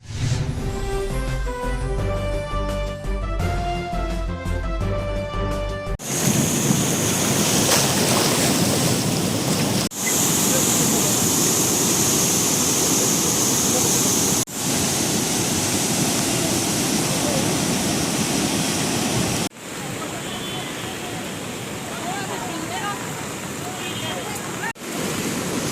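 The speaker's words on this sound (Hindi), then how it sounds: "मुसलसल हो रही बारिश के बाद राजौरी की नदी इस वक्त तूफान पर है।" A river in Rajouri in flood after continuous rain, roaring in a loud, steady broadband rush that follows a short musical intro and carries on without pause.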